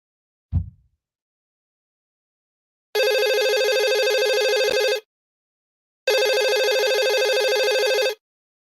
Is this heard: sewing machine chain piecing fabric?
no